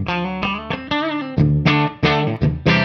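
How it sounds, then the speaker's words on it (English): Electric guitar through a JFET boost pedal plays a quick series of chords and picked notes, each attack bright and punchy, with notes ringing into the next at a steady, fairly loud level. "Here's the sound of the Jfet."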